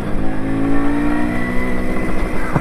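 An MZ TS125 two-stroke motorcycle engine, low on power, revs up steadily under throttle, a continuous rasping buzz rising and holding, then dipping near the end, heard close with no talking.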